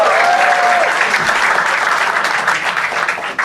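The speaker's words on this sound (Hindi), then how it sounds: "तो गाइस एक बार जोरदार ताली हमारे पैनल के लिए आज" An audience claps loudly and steadily for a panel on a comedy show stage, a dense wash of applause that holds at full strength throughout with no speech over it.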